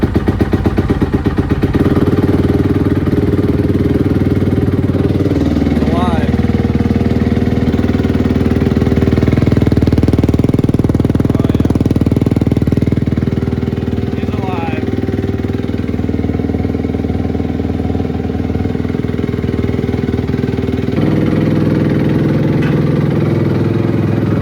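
A Honda CRF 250 R dirt bike idles steadily and loud close by, its engine clattering, with a couple of brief blips of the throttle. Talk runs faintly beneath.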